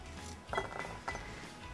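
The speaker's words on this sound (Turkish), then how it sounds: "Gördüğünüz gibi benim şöyle 1 litrelik bir kavanozum var." A one-litre glass jar is handled for pickling cucumbers, giving a few light, faint clinks of glass spaced about half a second apart, close by and otherwise quiet.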